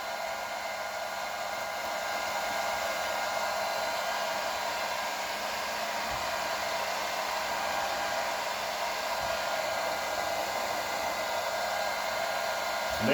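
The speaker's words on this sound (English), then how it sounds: "Basically, the hair dryer is going to soften up the glue, and it's going to heat up the back of the metal on the panel." A hair dryer heats a dented car fender panel, running as a steady, even whir for the whole stretch with no talking, moderately quiet and unchanging.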